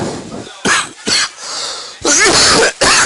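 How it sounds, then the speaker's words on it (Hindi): Several harsh, loud coughs in bursts, close to the microphone, with brief pauses between them. "अरे तुरंत खांसी आएगी भाई साहब"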